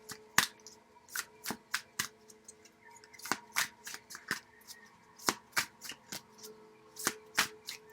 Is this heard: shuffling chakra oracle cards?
yes